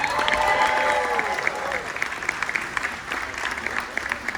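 Cruise ship audience applauding their guest services manager at sea, with a steady broad clatter of many clapping hands, loud at first and easing a little, while a voice calls out over it.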